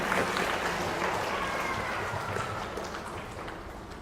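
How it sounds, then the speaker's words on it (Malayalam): An audience at a church retreat in Kothamangalam applauds together to thank the Lord, a dense, steady wash of clapping that gradually fades over a few seconds. "കൈയടിച്ച് കർത്താവിന് നന്ദി പറയാം."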